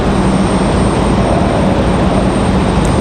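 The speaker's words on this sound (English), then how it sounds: "Delta A320." A Delta Airbus A320 jet airliner at Raleigh Durham International Airport in the evening: a loud, steady broadband engine roar, close and unbroken, with no talk.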